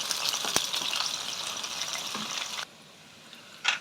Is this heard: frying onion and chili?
yes